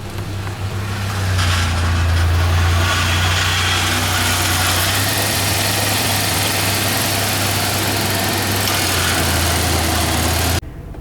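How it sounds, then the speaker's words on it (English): A Ford Bronco II engine idles steadily after a starter replacement, a loud, close, even low rumble that runs for about ten seconds before cutting off abruptly. "That starter sounds nice and healthy."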